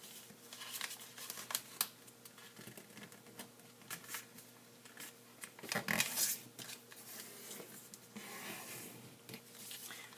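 Sheet of origami paper being folded and creased by hand, a steady stream of close crisp rustles, crinkles and sliding scrapes with no talk.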